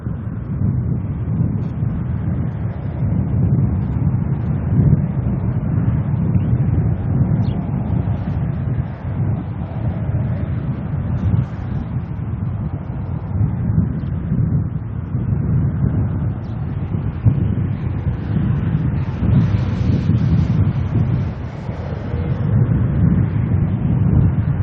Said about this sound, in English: Wind is certainly picking up now.